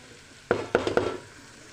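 Curry leaves frying in a pan for Andhra-style fish curry give a quiet sizzle, broken by three quick, sharp scrapes or taps of a spatula in close succession.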